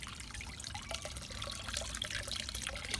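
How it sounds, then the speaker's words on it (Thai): Water sloshing and trickling as a homemade plastic-bottle fish trap is dipped into water and half filled, a steady close watery gurgle with light drips throughout, no talk. "แล้วเราก็จุ่มลงไปให้ขวดใหญ่น้ำสักครึ่งขวด"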